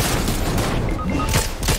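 Gunfire in the video game Fortnite, dense bursts of shots and impacts filling a short loud stretch over game noise, with no clear speech.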